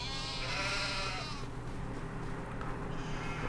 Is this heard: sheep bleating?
yes